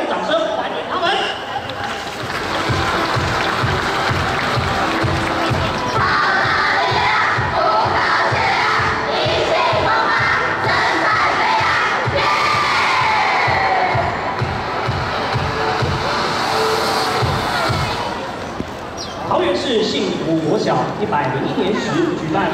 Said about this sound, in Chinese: 让我们用热烈掌声欢迎他们